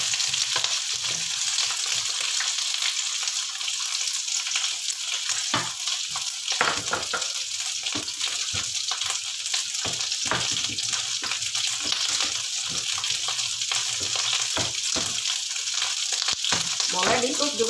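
Chunks of yellow pumpkin, added to a pan of fragrant sautéed aromatics, sizzle and fry loudly while being stirred, with a steady hiss broken by scraping stirs throughout and no talking.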